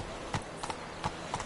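Hooves of Roach, a horse in a video game, clip-clopping in a steady walking rhythm, four distinct close strikes over a quiet background with no voices.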